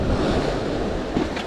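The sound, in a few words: big ocean waves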